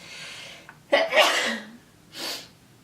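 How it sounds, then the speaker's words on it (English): A quiet breath-in, then one loud sneeze close to the microphone, followed by a softer exhale or sniff. "I'm gonna sneeze."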